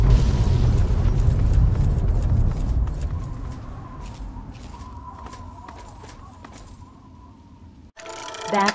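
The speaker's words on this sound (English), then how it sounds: "Artillery strike in 10 seconds." A Fallout 3 artillery strike opens with a loud, booming explosion whose deep rumble slowly fades over several seconds, crackling with scattered debris pops, before a sudden cut to a different, brighter sound at the end.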